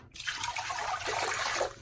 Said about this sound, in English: I'm going to get a bucket with water and I'm going to pour it in there and see if it leaks